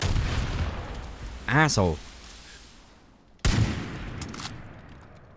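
Rifle gunfire in Far Cry 5 cracks out in two loud, sharp reports several seconds apart, with a voice briefly speaking between them over a low background rumble.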